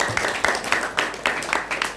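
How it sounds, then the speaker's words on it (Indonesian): An audience at a pesantren farewell ceremony gives quick applause for Quran-memorizing students, a short burst of close, rhythmic hand clapping. "Tepuk tangan untuk para santri ulama"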